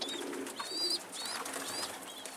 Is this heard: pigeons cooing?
yes